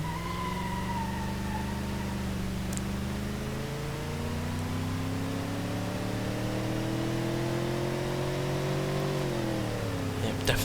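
A car with a 5.5-litre engine in the video game BeamNG.drive accelerates hard, its engine tone climbing steadily in pitch, dropping briefly at a gear change near the end, loud and close with no talk.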